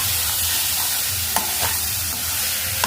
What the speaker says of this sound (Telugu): ఈ షుగర్ వేసి బాగా కలుపుకోవాలి